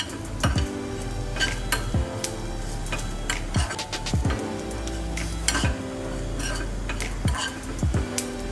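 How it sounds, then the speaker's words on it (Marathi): Roasted coconut being stirred in a hot pan, with repeated scraping of a spoon against the metal and light clinks in a steady rhythm, close by over a constant low hum, with no voices. "पॅन गरम आहे म्हणून थोडं हलवत राहूया, जेणेकरून खालती खोबरं करपणार नाही।"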